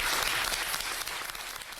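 A studio audience applauds steadily in a dense, continuous wash of clapping that stays loud and even for the whole stretch, with no voices over it.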